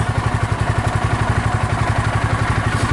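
A Cub Cadet Challenger 750 utility vehicle's engine chugs close by in four-wheel drive, a loud, rapid, evenly pulsing low thrum with clattering mechanical noise and no talk.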